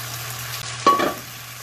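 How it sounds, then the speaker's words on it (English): Potatoes sizzle briefly in a hot pan as they are stirred, a short loud burst of frying rising over quiet background hum and then fading, with no talking. "Sizzle."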